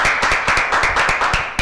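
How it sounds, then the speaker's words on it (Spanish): A studio audience claps for a guest barista on a television magazine show, crisp individual hand claps in a quick, fairly even rhythm, close and moderately loud. "Un aplauso para Carlos, señores, por favor"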